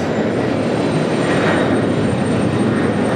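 A jet airliner takes off at JFK airport in New York, a loud, steady roar of engines filling the air continuously with no voices.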